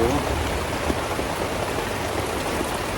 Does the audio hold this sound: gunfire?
no